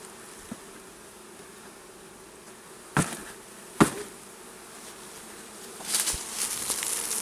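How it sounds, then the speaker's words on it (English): Honeybees buzz in a steady insect hum as a comb frame is shaken, with two sharp knocks from the shaking and a louder buzzing swell near the end. "Still a good bunch of bees on here, so we're going to shake it one more time."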